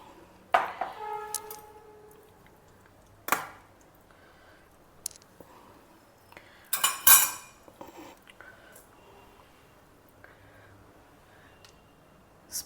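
Beaten curd (homemade dahi) being stirred with a spoon in a bowl, giving scattered metallic clinks and scrapes with soft squelches in between, close and fairly quiet, with pauses between bursts and no talking.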